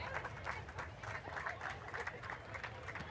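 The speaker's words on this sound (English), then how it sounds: "a little applause from the crowd there suggests the goal is good to go" Faint, scattered applause and clapping rise from a football crowd at an A-League match between Western Sydney Wanderers and Perth Glory, distant and continuous over a murmuring stadium.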